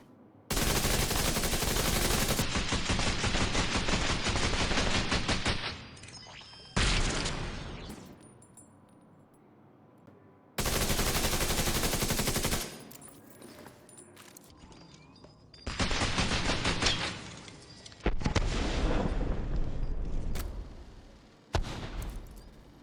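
Automated skill turret gunfire at a shooting range in the video game The Division 2: loud sustained bursts of rapid fire, broken by short pauses, with several separate volleys across the clip.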